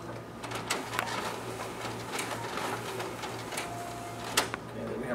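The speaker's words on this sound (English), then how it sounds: "there we have our document feeder working." Xerox WorkCentre 7535 copier's document feeder pulling pages through, a steady mechanical whir with light clicks and a sharp tick near the end, fairly quiet.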